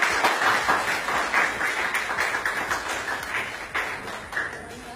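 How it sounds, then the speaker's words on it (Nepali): Applause from an audience at a public event, a dense, steady patter of many hands clapping together for the full stretch, fairly close and loud with no voices over it. "उहाँलाई पनि एकपल्ट ताली बजाइदिनु"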